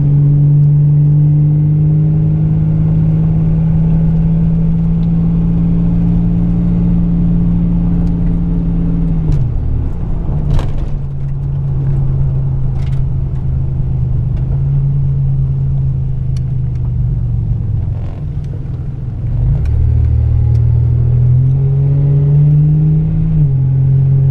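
A Buick V6 engine in a 1986 Buick T-Type rumbles steadily at a low pitch while driving, rising briefly in a couple of revs before settling back, loud and close.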